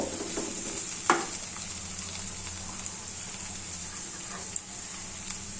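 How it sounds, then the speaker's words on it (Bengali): Chopped onion frying in a pan for chirer polao, a Bengali flattened-rice pilaf, giving a steady soft sizzle with a couple of sharp clinks from stirring. "পেঁয়াজটা সবার পরে দিলাম, কারণ পেঁয়াজটা আমি বেশি ভাজবো না"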